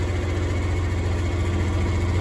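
A John Deere 4020 tractor runs while bushhogging a pasture with a JD HX15 cutter, producing a constant, loud, close low-pitched engine drone with no breaks or revving.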